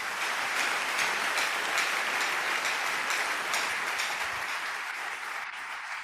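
A church congregation claps and cheers together during a sermon, producing a sustained, dense wall of applause that stays loud and only eases slightly toward the end, with no speech over it.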